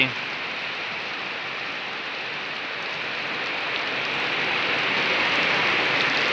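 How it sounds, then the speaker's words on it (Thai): Heavy rain pouring steadily outdoors, a dense continuous hiss of drops on surfaces that grows slightly louder over several seconds, with no talking on top. "ฝนก็ตกได้ตกดี"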